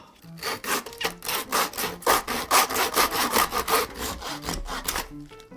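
A saw cuts back and forth through the bone of a huge fish head in steady, rasping strokes, close and loud, with no talking.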